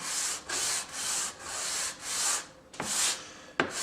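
A redheart wood bandsaw box is sanded by hand, with rhythmic back-and-forth scratchy strokes, about eight close, even passes ending in a couple of sharper scrapes.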